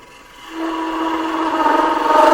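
A detail spindle gouge cuts into spinning wood on a lathe. A steady, tonal whirring hum rises in loudness as the tool engages, and it continues alone and close.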